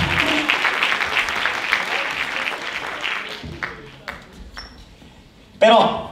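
Audience applause at a Christmas music, dance and theatre show, a dense crowd clapping that thins out and fades, with a few sharp sounds near the end.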